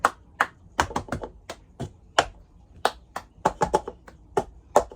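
A cup song rhythm played with hands and plastic cups: sharp, close claps and taps against the hand and table fall in an uneven, syncopated pattern of about twenty distinct hits.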